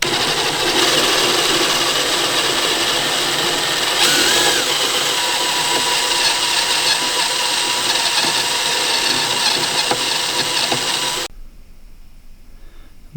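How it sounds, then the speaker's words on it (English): A spot weld cutter in a drill whines steadily while cutting out welds on the cowl of a 1968 Buick Skylark, a loud continuous motor drone that stops abruptly near the end. "spot weld cutter"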